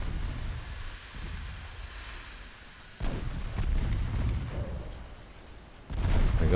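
Naval gunfire and torpedo hits ring out in a 1946-era naval strategy game, with a steady low rumble of distant booms that surges into louder, denser blasts at about three seconds and again near six seconds.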